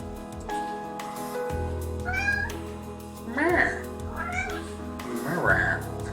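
A cat meows several times, rising and drawn out, close by, with a low steady hum underneath and a person talking briefly.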